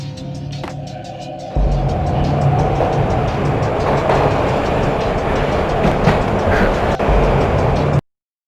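A train in Max Payne rumbles steadily along the tracks, its low roar and rhythmic clacking rising after a brief quieter start, then cutting off abruptly.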